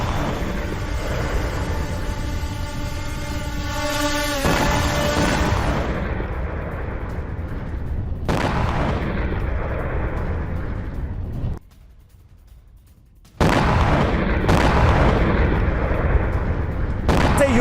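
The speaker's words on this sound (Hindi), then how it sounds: "रूस के ड्रोन हमलों से दहल गए यूक्रेनी ठिकाने" Explosions from Russian drone strikes on Ukrainian logistics positions near Kryvyi Rih boom loudly through a continuous roar, with a sharp blast, a sudden near-silent gap, then another heavy burst of rumbling noise.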